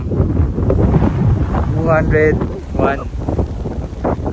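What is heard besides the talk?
strong wind on Mt. Batulao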